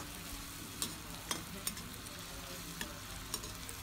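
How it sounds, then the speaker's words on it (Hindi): Onions frying in a pan for chicken biryani, a steady low sizzle with a few sharp utensil clicks scattered through it, moderately quiet and without voices. "अच्छे तरीके से हम प्याज को फ्राई कर लेंगे।"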